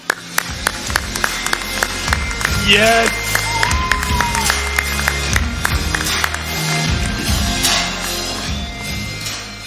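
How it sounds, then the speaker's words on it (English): Audience at an EA Play esports gaming event applauding and cheering as players are introduced, a crowd roar with scattered claps and an announcer speaking over it. "if you could please give a cheer for one of the most formidable RTS players there is"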